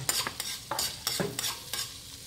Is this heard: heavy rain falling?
no